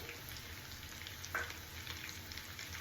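Spicy chicken fry with curry leaves sizzles quietly and steadily in a pan, with a single small crackle midway.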